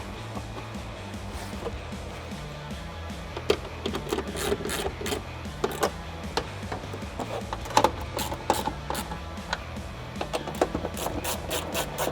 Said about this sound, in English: grab your socket and get them nice and snug